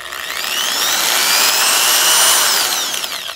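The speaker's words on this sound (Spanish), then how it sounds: "Vamos a ver qué pasa si yo presiono acá el botón de este taladro." Electric drill switched on and running, a loud steady high-pitched motor whine that swells and holds for a few seconds close to the microphone, with no talk.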